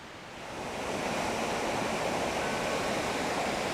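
Middle Falls in Wensleydale tumbles over stepped limestone ledges in a continuous rushing roar that swells in over the first half-second, then holds steady and full, close by and unbroken.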